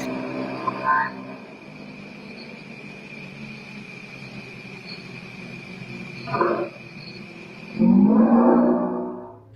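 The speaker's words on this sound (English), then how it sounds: "Sounds like an elk." An elk call heard in a forest setting: a deep, rough bellow near the end rising in pitch, with an earlier short call, over steady background hiss and insect-like drone.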